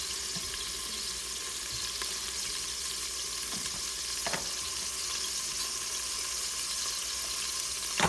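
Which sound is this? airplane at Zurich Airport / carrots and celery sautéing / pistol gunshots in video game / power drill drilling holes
carrots and celery sautéing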